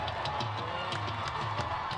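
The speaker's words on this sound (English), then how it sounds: "The crowd is making noise once again." Crowd noise at a high school varsity football game between Pella and Norwalk, a steady dense roar of many voices with faint music-like tones, loud and continuous throughout.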